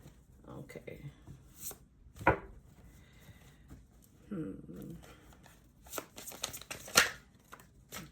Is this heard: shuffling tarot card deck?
yes